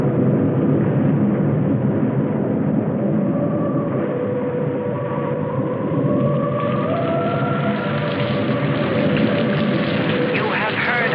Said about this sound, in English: it seemed heavier than any rain we'd ever seen